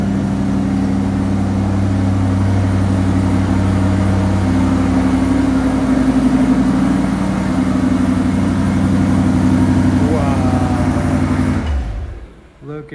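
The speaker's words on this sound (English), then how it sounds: "Oh, that sounded good. Did you hear that? The exhaust was good. Perfectly tuned exhaust." Classic muscle car with a tuned exhaust idling nearby, a steady deep rumble held for about twelve seconds before cutting off abruptly.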